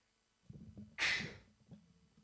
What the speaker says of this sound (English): So apologies for the sneezes in your ears.